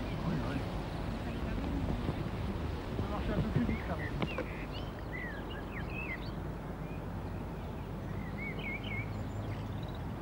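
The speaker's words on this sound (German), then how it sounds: "der Wind, der in Wellen über die weite Hochebene streicht" Wind sweeps in steady waves across the high moorland plateau of the Hohes Venn in autumn, a constant broad rush, with faint bird chirps in the distance.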